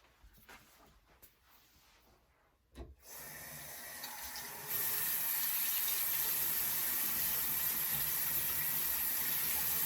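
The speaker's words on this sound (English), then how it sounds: "I'm going to get started and wash my face." A bathroom sink tap runs steadily while a face is washed, starting with faint splashes and handling, then opening into a loud, continuous rush of water at close range.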